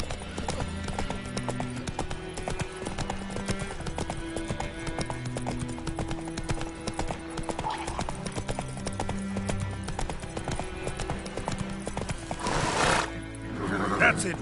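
Roach, a horse in The Witcher 3, gallops with steady clip-clop hoofbeats and a brief whinny, set under a continuous game music score with speech over it.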